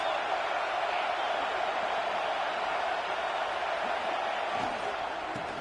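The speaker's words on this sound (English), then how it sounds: "This crowd trying to make life miserable for this offense." Stadium crowd in the College Football 26 video game, a dense, steady roar that holds at a constant loud level throughout with no clear breaks or individual voices.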